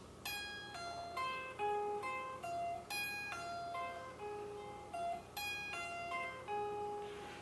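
Slow guitar sweep picking with a rolling fingertip, each note ringing out clearly in repeated ascending and descending arpeggio runs, played alone at moderate volume.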